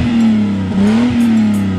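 A friend's new car revs loudly close by, the engine note swelling, dipping briefly and climbing again in a steady droning roar with no voices.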